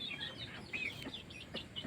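Laying hens clucking and chirping, a few soft, close calls overlapping in quick, uneven bursts over faint background noise, no talk.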